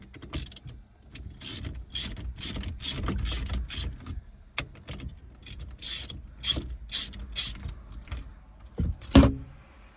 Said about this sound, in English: So now we can loosen up our 1/2-inch bolts here.